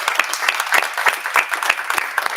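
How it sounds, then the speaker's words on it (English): Applause at a university board of supervisors meeting: a lively round of clapping from a roomful of people, dense and continuous with distinct individual claps popping out near the listener, and no talk over it. "deserves a round of applause right now"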